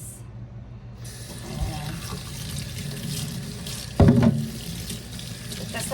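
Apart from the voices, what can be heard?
water running from tap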